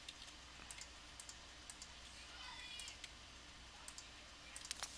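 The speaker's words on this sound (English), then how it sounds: "I'll tap it with the arrow keys on the keyboard to take it up a notch" Computer keyboard arrow keys tapped in a quiet room, a string of faint, crisp single clicks spaced irregularly over low background hiss.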